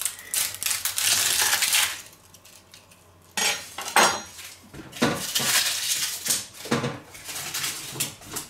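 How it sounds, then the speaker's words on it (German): A knife chopping an onion on a cutting board in a home kitchen, with rapid clustered cuts and clacks close by, a brief pause, then more irregular chopping taps that continue to the end, with no talking. "Wenn ich schon beim Schneiden bin, schnibbel ich mir noch von der Zwiebel was weg."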